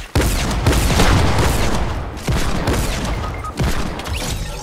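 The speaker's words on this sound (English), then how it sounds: "Hand cannon elimination, guys." Rapid bursts of hand cannon fire in the Fortnite video game, several loud shots and booming impacts in close succession, with no talk over the gunfire.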